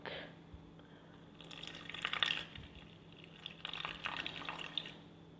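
Water poured onto rye flour in a bowl for a day-one sourdough starter, with soft trickling and dripping bursts, close and fairly quiet, over a faint steady hum.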